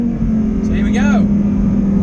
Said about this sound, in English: there's your revs in your V10